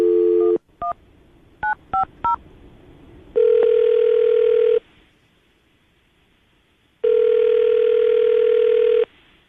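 An outgoing telephone call goes out with a few short dialing beeps, then two long steady ringback tones separated by a pause, loud and clear with no voices.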